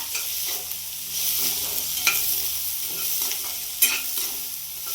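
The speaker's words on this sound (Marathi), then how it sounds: "आता एकदम असं फ्राय होत आहे." Carrots and green chilies fry in a pan for upma, a soft steady sizzle with a couple of sharper stirring scrapes, close and fairly quiet, no speech.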